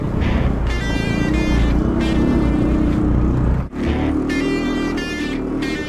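A Chinese mini tractor drives off-road under its own weight, its engine droning loudly and continuously up close, with a rising, straining whine that repeats in bursts.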